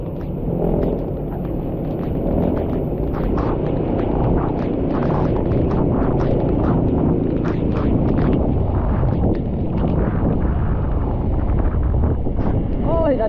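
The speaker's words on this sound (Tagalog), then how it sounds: "Oy, nadadala ko ng hangin." Strong wind from Typhoon Kristine roars and buffets the microphone continuously in flooded Barangay Mambog, a dense, unbroken rush of gusts with a voice faintly under it.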